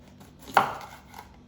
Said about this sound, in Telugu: ఇప్పుడు క్యాప్సికమ్ కట్ చేసుకుందాం